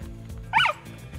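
By a canal in winter, a dog gives a single sharp, close bark that cuts briefly through quiet outdoor background noise.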